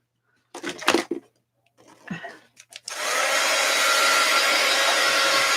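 A few brief handling knocks and rustles come first, then a hair dryer switches on and blows steadily and loudly to dry a piece of artwork.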